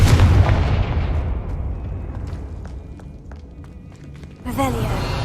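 Confringo blasting spell explosion in the video game Hogwarts Legacy: a loud, deep boom at the start that fades into a long rumbling tail, with a brief voice near the end.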